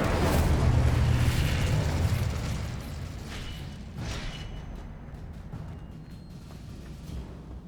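Incendio fire spell cast in Hogwarts Legacy, a loud roaring whoosh of flame that bursts at the start and slowly fades into a rumbling crackle over several seconds.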